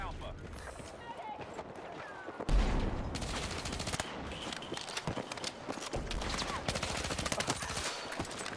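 Hip-fired gunfire in Battlefield 6, loud rapid automatic bursts with a heavy blast partway through, continuing in dense repeated volleys amid game noise, with a voice talking over it.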